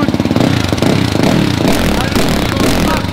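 A motorcycle fitted with a cheap Lidl aftermarket exhaust idles loudly up close with a throaty, rumbling exhaust note and steady pulsing rhythm.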